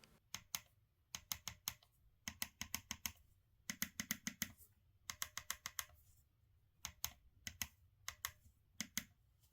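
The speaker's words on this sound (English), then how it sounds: "The clicking noise is also very good to hear." Crisp, close clicking from the four-way joystick on a sim racing wheel, tapped in quick bursts of several clicks with brief pauses between them and no talking.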